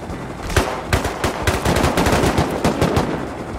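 Rapid bursts of automatic gunfire crackle loudly and close in the survival video game Rust, sharp repeated shots in quick uneven rhythm with no talking.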